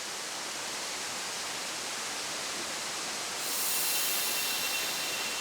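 Rushing water of Yeonsan Falls in Yongchu Valley, a dense, steady roar close by that grows slightly louder partway through, with no voices.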